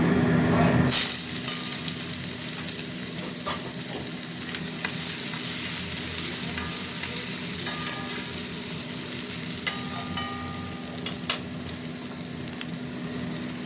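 Chopped onion dropped into hot oil with nigella seeds bursts into a loud, sudden sizzle that settles into a dense, continuous frying hiss with occasional stirring clatter.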